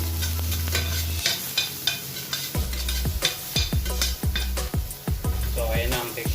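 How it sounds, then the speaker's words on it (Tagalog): Cabbage stir-fried in a hot pan, sizzling steadily under repeated scraping strokes of a spatula, with clattering metal stirring in a regular rhythm, close and fairly loud. "Then lagyan na natin ang ating cabbage o ang repolyo."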